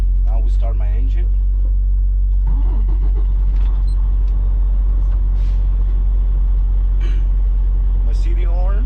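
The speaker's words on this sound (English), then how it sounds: "Now we start my engine." Inside the cab of an air-brake truck, a heavy diesel engine starts about two seconds in with a surge of low rumble, then keeps idling steadily while people talk over it.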